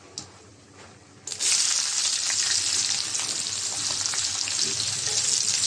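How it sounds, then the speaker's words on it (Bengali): Onion and garlic are dropped into hot oil with panch phoron, dried red chilli and bay leaf. After a quiet start a loud hiss bursts up and settles into a steady, close frying sizzle. "এখন পেঁয়াজ আর রসুন দিয়ে দিব।"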